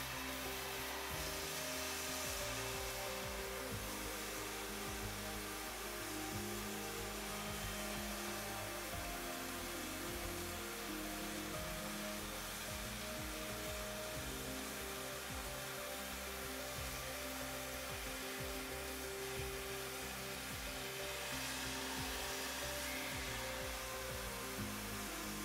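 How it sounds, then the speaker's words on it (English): An oxyfuel hand cutting torch slices through a metal workpiece, giving a steady, loud roaring hiss with crackling that runs unbroken for the whole stretch, with no voices. "Cut your workpiece by operating the cutting oxygen lever."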